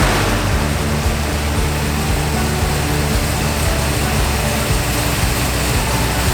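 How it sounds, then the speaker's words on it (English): A Ford Mustang Mach 1 engine idles steadily and loudly at close range, a continuous low rumble with no talking. "I think the engine sounds great."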